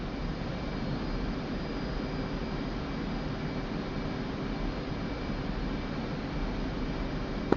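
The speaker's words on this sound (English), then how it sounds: "I got that cargo plane taken off" A cargo plane taking off gives a steady, loud roar that holds evenly with no break from start to finish, and no voices are heard over it.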